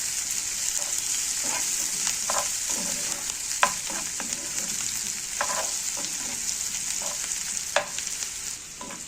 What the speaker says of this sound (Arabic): كده بقى حطيت البصلايه مطرح في الزيت اللي حمرت فيه الفراخ